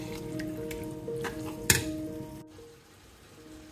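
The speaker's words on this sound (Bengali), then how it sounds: "মশলা ভাজা হয়ে গেছে, এখন আমি চিকেনটা দিয়ে দিলাম। চিকেনটা ভালোভাবে এখন কষিয়ে নিব" Chicken is added to fried spices in a pan and sizzles softly while it is stirred, with one sharp clink of a utensil before the frying sound quickly dies down.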